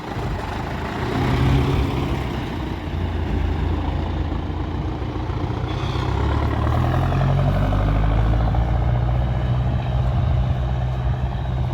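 Farm tractor pulling away during autumn wheat sowing, its diesel engine a steady low rumble that holds fairly constant across the stretch, with no voices over it.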